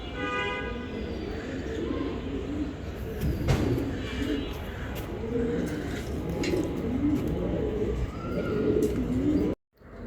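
Young racing pigeons coo softly and repeatedly in a cage while feeding together, with a voice talking over the cooing throughout.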